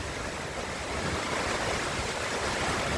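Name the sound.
cyclone wind and rain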